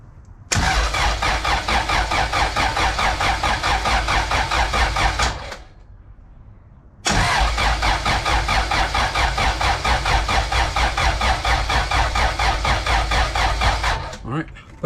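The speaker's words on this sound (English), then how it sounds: "Jump the starter with the key off." A Honda CRX with a B18 LS-VTEC engine cranks on the starter in a long, rapid, rhythmic churning burst, stops briefly, then cranks again just as loudly without catching.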